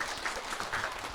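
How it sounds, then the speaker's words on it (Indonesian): Children's audience clapping at a kindergarten performance event, a short burst of steady scattered applause throughout, moderately loud and uneven, with no talking over it. "tepuk tangan dong"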